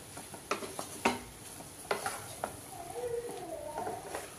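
Wild kadi-modi flowers being stirred as they fry in a pan as a vegetable dish: scattered scraping stir strokes over a soft sizzle, close and fairly quiet, with no talking.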